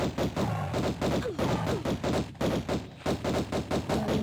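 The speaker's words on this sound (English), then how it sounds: "That alternating fire on the pistols" Lara Croft's twin pistols firing in alternation in Tomb Raider Remastered, a quick, even run of about a dozen sharp shots close up, steady and rhythmic, with no talk.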